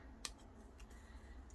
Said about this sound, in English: you could take your scissors and just cut off the bottom of the jammies